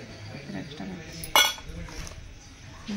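Heavy, thick metal spoons being handled give one sharp, bright clink with a brief ringing tail midway, close by, among softer scraping and faint murmuring voices in a quiet room.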